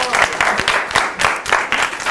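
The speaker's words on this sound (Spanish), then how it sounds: "Un aplauso para Celia." Audience applause in a classroom show at a secondary school in Elche, bursts of clapping from a group that swell and ease in waves, close and loud.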